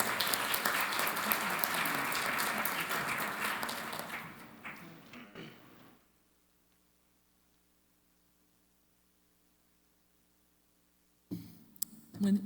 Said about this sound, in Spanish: Fuerte el aplauso para Lola Álvarez Romano de la Clínica Tavistock.